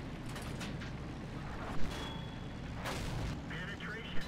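World of Tanks battle: tank cannon shots and shell impacts thump at intervals over a steady rumbling background, with someone talking throughout.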